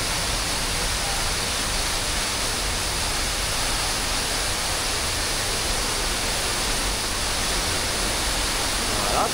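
A waterfall in Dominica on a rainy day gives off a loud, unbroken rushing roar that holds steady from start to finish, with no voices.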